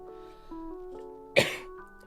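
A single sharp cough rises once over a quiet background hum, close and brief.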